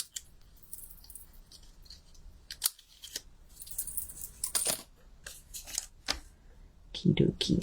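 Scissors snip through card during a card-making project, a series of sharp, irregular cutting clicks and rustles of paper, close and moderately loud, with a few quiet gaps.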